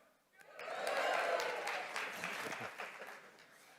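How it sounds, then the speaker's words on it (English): Tepid applause from a conference audience in a hall, swelling quickly to a moderate patter of clapping and then tapering off over a few seconds. "I will accept your tepid applause and tepid excitement"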